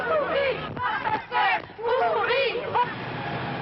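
A crowd in 1983 France gathered around a heavy police cordon as a suspect is led back to his cell, a dense babble of many voices close by with shouted calls rising over the hubbub throughout.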